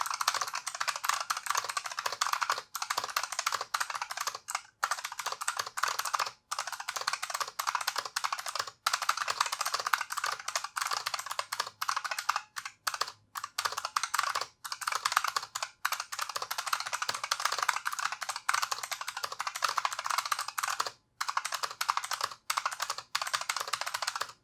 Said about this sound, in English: these are rocking the same blue optical switches that were in the other keyboard. So let's have a little bit of a typing test